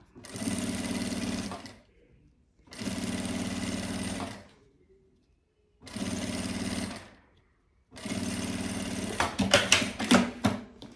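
A sewing machine stitches fabric set to a 3.5 stitch length, running in four steady bursts of about two seconds each, separated by short pauses, with a few small clicks at the end.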